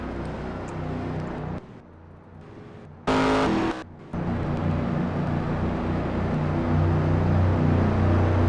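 Race cars in the NASCAR Racing 2003 game on the Sonoma road course: a steady, loud engine roar that drops briefly, then returns with a sharp rev before the pack's drone builds again.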